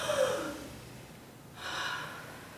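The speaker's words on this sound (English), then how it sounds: "Do it with me, take a deep breath." A slow, deep breath drawn in and let out, close and soft, in a quiet room with no talking.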